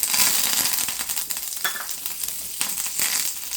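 Curry leaves crackling and sizzling loudly in hot oil in a pan, with bursts of spattering and a steady frying hiss, alone without talk.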